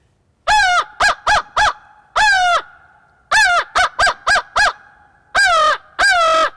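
A man imitates crow calls with his bare voice, no call device: loud, nasal caws given in quick clusters of two to four, about a dozen in all, with short pauses between groups.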